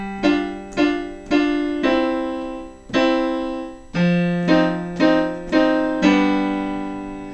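Solo piano plays a short Level 1 phrase: about ten evenly paced chord strikes, each ringing and decaying before the next, close and clear with no talking.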